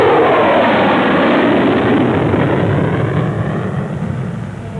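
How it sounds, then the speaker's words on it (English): The Lockheed YF-12 jet interceptor roars on its takeoff roll with a loud, continuous, broadband engine rumble. The roar eases slightly toward the end, and no voices are heard over it. "Takeoff roll is about the same as for current Century Series fighters."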